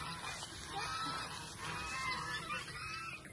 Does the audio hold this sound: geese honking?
yes